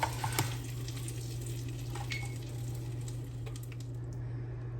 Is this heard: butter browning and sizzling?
yes